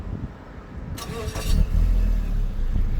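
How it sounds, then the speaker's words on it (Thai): A 2013 Mazda 3 1.6 engine starts up and settles into a steady low idle rumble, close by, with brief rustling before it. "เดี๋ยวเรามาฟังเสียงเครื่องยนต์กันนะครับ"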